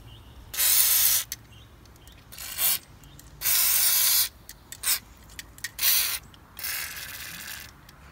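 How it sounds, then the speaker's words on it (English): WD-40 sprayed from an aerosol can on an old Mercedes-Benz W202: several close, loud hissing bursts of varying length, separated by brief pauses, with no talking. "just get a bit of WD-40 over there"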